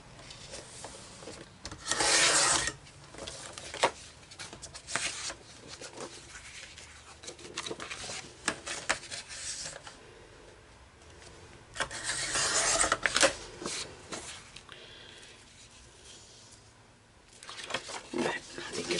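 Close, rasping strokes of paper being trimmed with a trimmer blade come in several bursts of varying length, separated by quieter handling noise, with talking heard in places.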